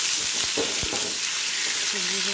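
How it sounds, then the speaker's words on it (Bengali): Pumpkin and potato pieces fry in rice bran oil with a loud, close, continuous sizzle, a few scraping stir sounds and a short tonal hum near the end. "কুমড়োটা আর আলুটা ভেজে নিচ্ছি প্রথমে, তারপর বাকি সবজি দেবো।"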